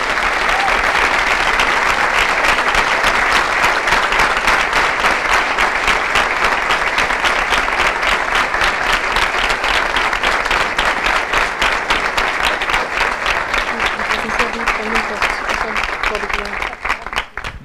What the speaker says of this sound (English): Please give another round of applause to the runner-up